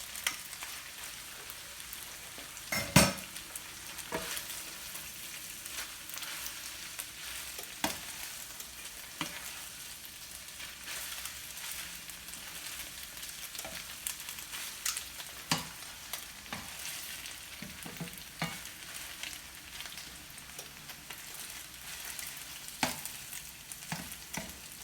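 Shrimp sizzle steadily in a hot pan for an edamame pasta dish, with an occasional scrape or clack of stirring. The frying is close and continuous, and no one speaks.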